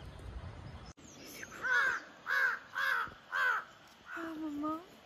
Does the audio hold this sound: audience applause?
no